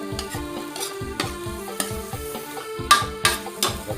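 Chinese kale and minced pork are stir-fried in a hot pan over high heat, with a spatula scraping and knocking in a quick steady rhythm, repeated sharp clanks over a low sizzle, close and clear with no talking.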